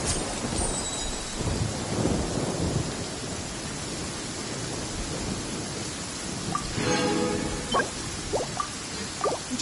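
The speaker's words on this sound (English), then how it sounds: "Without lightning to give warning, the sound of thunder is quite startling." Rain patters steadily in the video game Genshin Impact while a low rumble of thunder rolls through, followed by scattered drips and sharper splashes nearby.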